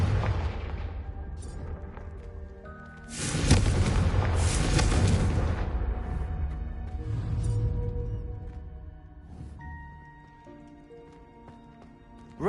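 Fiery Confringo blasting spell from Hogwarts Legacy erupting in a loud, booming explosion that swells, holds for several seconds and rolls off, with game music and ambience beneath.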